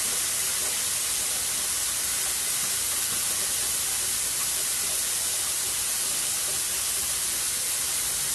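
Pork tenderloin sizzling in a hot pan, a constant, bright, even hiss of frying that holds steady throughout without pause and with no voices.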